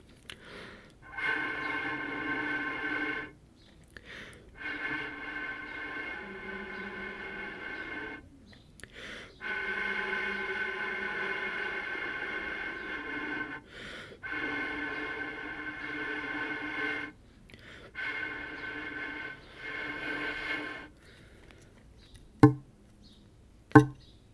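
A buzzing, reedy bass bagpipe drone by Naill is blown in several sustained bursts separated by short breaths, followed by a couple of sharp knocks at the end.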